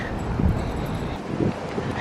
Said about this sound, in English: It's a little windy, a little breezy out today.